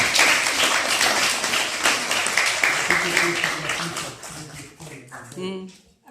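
A university audience breaks into loud applause at a meeting with a schoolgirl about to sing, dense clapping that thins out toward the end as voices and a few scattered claps take over.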